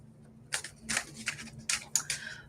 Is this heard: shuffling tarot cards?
yes